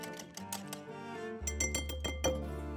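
Eggs are whisked into a custard made with warm butter and Parmesan. The whisk strikes the bowl in a few sharp, ringing clinks, close and fairly quiet, with no talking.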